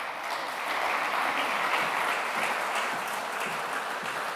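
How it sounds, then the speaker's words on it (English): An audience at the opening of a European standardization summit gives a warm round of applause as a speaker takes the lectern, dense clapping swelling quickly and holding steady before easing slightly. "give him a warm round of applause"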